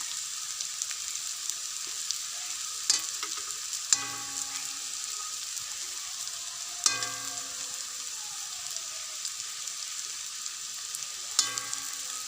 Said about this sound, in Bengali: মোটামুটি আঁচ কম দিয়ে আমি 10 মিনিট আরও ভাজবো এটাকে